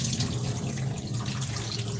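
Jasmine rice is rinsed under a running kitchen tap, with a steady close splash and rush of water throughout and no talk.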